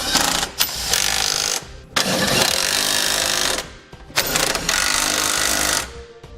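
A power tool on a 19mm socket tightens the fasteners of a Curt trailer hitch receiver on a 2018 Toyota RAV4. It comes in three loud, sustained rattling bursts, each about one and a half seconds, with brief pauses between.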